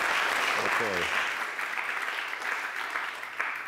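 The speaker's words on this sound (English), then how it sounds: "Let's give an applause." An audience at an MIT student program event applauds, a dense, even wash of clapping that holds steady throughout with a voice speaking briefly over it.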